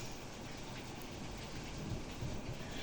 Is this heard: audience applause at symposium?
no